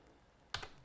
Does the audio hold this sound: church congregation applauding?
no